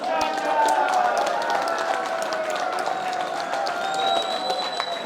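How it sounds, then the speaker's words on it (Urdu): A crowd at a PMLN political youth convention claps together, producing dense, sustained applause with a roar of voices that holds steady for the whole stretch. "اپنے دونوں ہاتھ اٹھا کے اب تالی بھی بجا دو"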